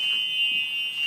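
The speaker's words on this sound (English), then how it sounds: "I want to make sure that the buzzer works." A bus buzzer sounds during a pre-trip inspection, a steady, loud electronic tone that holds for about a second with no talk over it.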